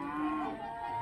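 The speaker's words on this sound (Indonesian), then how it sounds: "ini ada sapi pedet" A five-month-old Limousin calf moos once in a drawn-out, tonal call at a livestock market, close and fairly loud against a faint crowd background.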